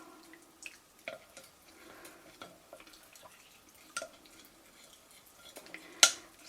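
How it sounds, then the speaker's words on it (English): A spoon stirs a white glue mixture of water in a bowl, prepared for wet mounting a Chinese brush painting, giving faint, scattered clinks and soft watery taps against a quiet background. "You want just to mix it until you get a smooth liquid"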